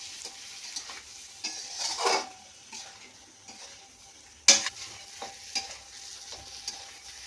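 Fried chicken pieces are stirred into an onion masala in a pan for a curd chicken dish, giving a steady sizzle broken by repeated scraping strokes of a spoon. There are louder clinks near the middle, and no one speaks.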